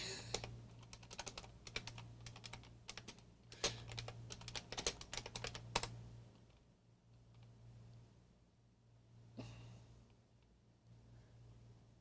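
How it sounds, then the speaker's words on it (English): Quick bursts of clicky keystrokes on a computer keyboard while playing Zork on MS-DOS, close and fairly faint, stopping after about six seconds with a short burst again near the end. "I am typing."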